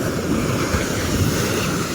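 Calm sea washes steadily at a boat launch in the pre-dawn dark as a fishing boat is lowered for tuna fishing, a continuous soft rush of water and breeze with no voices.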